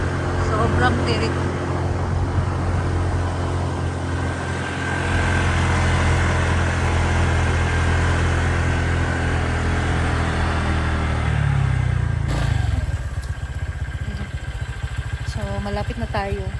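A motorcycle engine drones steadily with a loud, continuous rumble during a ride to Hinagaun Farm, shifting tone near the end as it slows.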